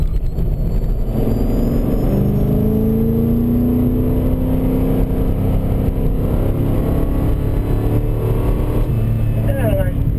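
A race car engine is heard from inside the car during a lead-follow session on track, a loud, continuous drone that rises in pitch under steady throttle.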